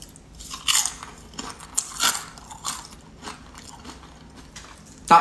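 Crisp grilled food, baked rather than fried, bitten and chewed close up, giving several separate crunchy bites spaced irregularly with quiet pauses between them and no voices.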